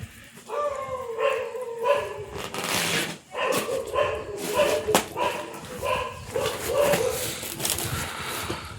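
Dogs bark and yelp in repeated bursts nearby, with whimpering howls between them and people talking in the background.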